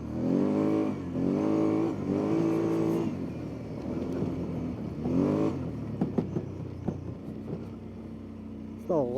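The engine of a Kawasaki Brute Force 750 ATV, a machine that won't move and is losing oil, revs hard in several rising and falling bursts and then settles to a lower idle with some clanks near the end, and a voice is heard partway through.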